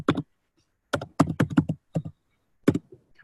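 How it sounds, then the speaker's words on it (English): Typing on a computer keyboard, with a few sharp close clicks and short clustered bursts of keystrokes separated by silent pauses, no voices. "There we go with my typing."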